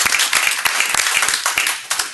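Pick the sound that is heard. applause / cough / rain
applause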